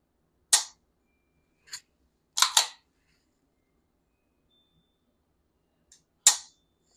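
Stock CZ TS 2 Orange pistol fired in a sequence of sharp, loud gunshots: a single shot, another, a quick double, then a final shot after a pause, with silence between them.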